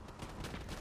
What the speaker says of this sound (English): He just pre-fired those gunshots